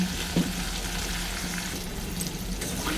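Potatoes seasoned with turmeric and salt fry in a pan with a steady, close sizzle, and a short clunk of stirring comes near the start.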